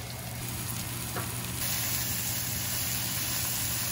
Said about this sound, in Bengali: পেঁয়াজটা আমি এখানে লাল করে ভেজে নেবো